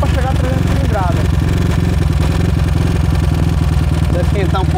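A modified 300cc motorcycle engine runs close and loud, with a steady, lumpy pulsing beat and mechanical clatter that continues without a break.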